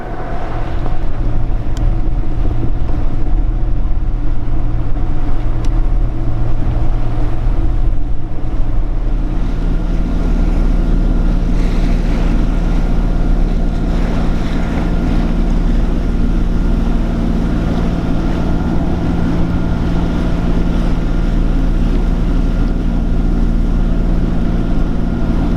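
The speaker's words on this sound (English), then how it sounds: "You hear the sails flogging." Sails flogging on a liveaboard sailboat in strong wind and big waves near Syracuse, a constant loud rush of wind and water with low rumbling and flapping under it, steady for the whole stretch, no voices.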